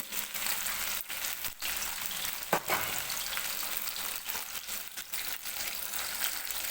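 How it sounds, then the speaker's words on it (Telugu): Fish pieces fry in hot oil with a steady, dense sizzle that holds evenly throughout, broken by a few brief clatters of a utensil; no one speaks. "అన్ని చేప ముక్కలు వేసుకొని ఫ్రై చేసుకోండి"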